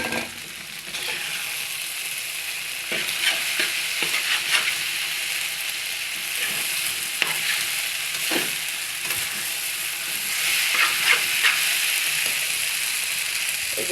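Egg noodles fry in a hot pan with spice mix and chopped green chillies, a loud steady sizzle broken by repeated scraping and clinking as they are stirred, close up.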